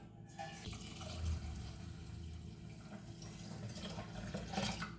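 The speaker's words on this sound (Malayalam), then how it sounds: "ഇനി ഇത് വെള്ളം ഒഴിക്കാം" Water pours onto washed rice and green gram in a pot, a steady close gushing splash that holds for several seconds without talk.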